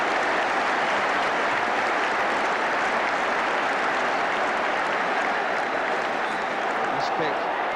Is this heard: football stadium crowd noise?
yes